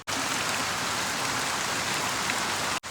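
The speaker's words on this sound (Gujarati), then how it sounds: "અત્યારે તો આ વરસાદ બંધ થવાનું નામ નથી લેતો," Heavy rain pours steadily, a dense even hiss of drops striking the ground and roofs all around, loud and unbroken, with no voices.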